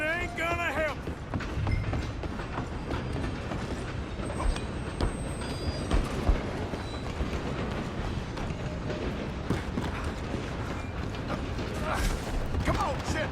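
Moving train in Red Dead Redemption 2, a continuous rumbling clatter of wheels and cars under shouting voices and bursts of action noise, fairly busy and steady throughout.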